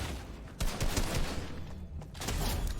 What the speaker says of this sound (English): you find an enemy, and you simply shoot them